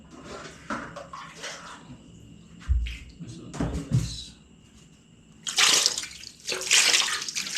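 Water splashing and running while washing up at home, in bursts of sloshing and pouring that grow louder toward the end, with occasional thumps.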